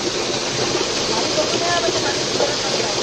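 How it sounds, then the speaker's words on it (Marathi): Heavy monsoon rain pours down beside a swollen Konkan village river, a dense, loud, continuous hiss of water filling the whole scene. "आता मस्त जोरदार पाऊस पडतोय"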